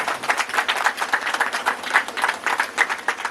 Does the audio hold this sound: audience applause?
yes